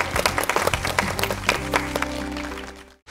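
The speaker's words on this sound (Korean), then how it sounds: "갑자기 박수 쳐주고." Studio audience on a Korean TV variety show breaking into brief applause, a burst of close clapping over about a second and a half before giving way to sustained musical tones.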